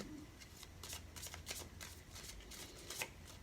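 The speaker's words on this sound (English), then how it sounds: "If I can only shuffle the cards, that would be great." A deck of tarot cards being shuffled by hand, quiet rapid riffles and flicks in short bursts, close and soft with no talking.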